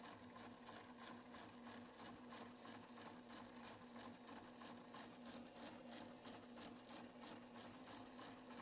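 A sewing machine with a quarter-inch patchwork foot stitches quilt pieces in a steady, fast mechanical rhythm with a constant hum, running unbroken and close throughout.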